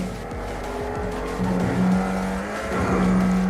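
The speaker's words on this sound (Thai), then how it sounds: "เรามาขับรถเร็วกันดูบ้างนะครับผม" A car speeding through the streets in GTA V, its engine droning with rising and falling pitch and a brief tire squeal, loud and continuous throughout.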